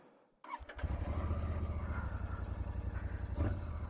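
A Royal Enfield Interceptor 650 motorcycle engine starts abruptly after near silence, catching with a short crank and settling into a loud, steady, close idle with a rhythmic low throb and a slight blip near the end.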